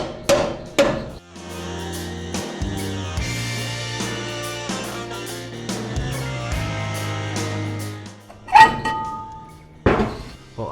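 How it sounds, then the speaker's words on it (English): A 5-pound hammer pounds a rusted brake drum off the axle of a 1952 Chevy 3100 pickup, sharp metallic blows struck irregularly, several spaced hits with ringing decay, loud and close. "I'm gonna grab the 5-pound hammer and we're just gonna start pounding around here."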